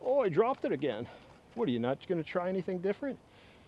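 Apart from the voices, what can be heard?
No everyday noises stand out.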